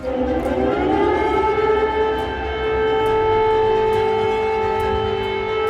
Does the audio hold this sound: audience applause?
no